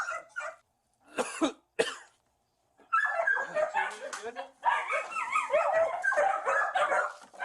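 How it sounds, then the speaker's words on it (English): A big dog barks and whimpers in a room, with sharp barks at first and then a run of whining cries, while people talk nearby. "Got that big ass dog."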